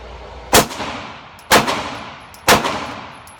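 Three sharp, loud shots from an M&P 2.0 pistol fired at 20 yards, evenly spaced about a second apart, each a crisp crack with a brief ringing decay.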